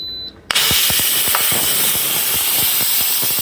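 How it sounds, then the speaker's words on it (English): An Instant Pot holding rice and three pounds of turkey vents its pressure in a loud, sustained hiss of steam that bursts on abruptly and runs steadily for about three seconds, with faint ticking underneath, then cuts off. "So I guess I will release the pressure."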